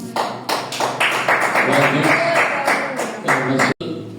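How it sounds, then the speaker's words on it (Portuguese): Congregation in a church clapping for Jesus, dense continuous applause with rhythmic claps filling the room, loud and steady, ending in a brief cutoff near the end. "Palmas para Jesus."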